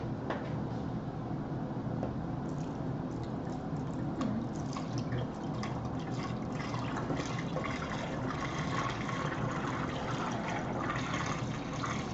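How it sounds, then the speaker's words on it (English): Beer being poured through a funnel into a Mr. Beer homebrew fermenter for a Surly Dog IPA batch, a steady, continuous rush of liquid filling the vessel close by for the whole stretch, with no talking. "with my funnel, go ahead and pour the beer."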